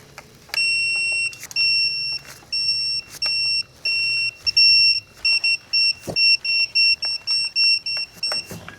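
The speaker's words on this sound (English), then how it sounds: "See how it's coming up to the torque and beeping?" An electronic torque wrench's high beeping repeats in short pulses as it reaches torque during a clutch job, first spaced out and then quicker and closer together, with faint clicks of a tool nearby.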